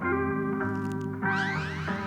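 An equalized guitar sample for a beat, its low end cut away, rings out alone as steady sustained chords with clearer mids and gliding bent notes rising over the top partway through.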